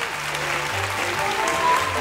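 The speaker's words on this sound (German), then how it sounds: "Applaus an alle Geräuschspezialisten." Steady applause from a group of people, a continuous even patter of clapping with no standout voices.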